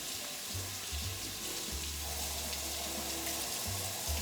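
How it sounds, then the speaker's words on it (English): Tap water runs steadily over hands and fresh rosemary sprigs at a sink, a continuous hiss and splash, moderately quiet with no talking. "I'm gonna wash my hands and wash this rosemary."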